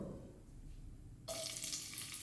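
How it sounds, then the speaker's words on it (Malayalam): A quiet hiss gives way midway to a sudden louder crackling sizzle of mustard seeds spluttering and popping in hot ghee close up. "കടുക് പൊട്ടി വരുമ്പോൾ"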